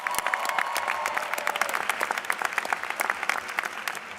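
Audience applause at a CUNY graduation, honoring the families, fills the hall as a dense, even wash of many hands clapping at a steady, moderate level with no talk over it.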